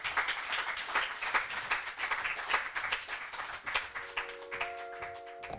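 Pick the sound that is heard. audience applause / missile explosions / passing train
audience applause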